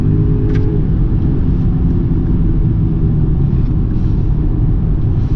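A 2021 BMW X3 xDrive30i SUV accelerates flat out, heard from inside as a loud, constant low engine and road rumble with no break.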